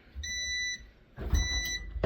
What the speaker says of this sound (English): once your time is up, it beeps for you